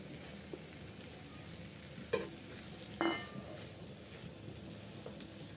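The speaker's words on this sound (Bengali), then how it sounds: "আমি মশলার সাথে মিক্স করে দিচ্ছি আমগুলো এইভাবে চিংড়ি মাছ দিয়ে আর সরিষা বাটা দিয়ে" Green mango pieces stirred into a pan with shrimp and mustard paste give a low, steady frying hiss, broken by two short, sharp scrapes of a spoon against the pan.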